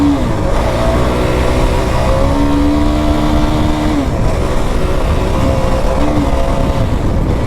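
Engine of a Kawasaki KFX 450R or Yamaha YFZ 450R quad held in fifth gear, a loud close steady drone with a wavering whine that climbs and dips slightly throughout.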